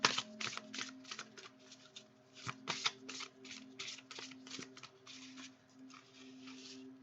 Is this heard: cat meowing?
no